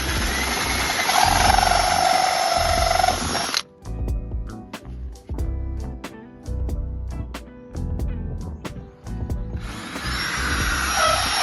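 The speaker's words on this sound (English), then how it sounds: "Just drilling in the holes now for the sensors." Power drill boring sensor holes into a replacement Mercedes A-Class bumper, with loud whining bursts at the start and end and quieter, intermittent clicking and handling noise between them.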